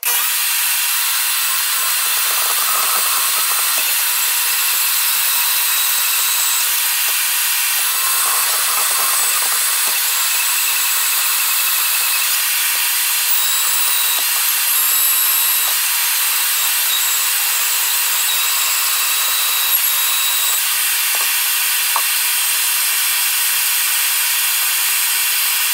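A portable bandsaw on a stand cuts steably through metal, a steady high, hissing grind that runs close and unbroken for the whole stretch with no voices.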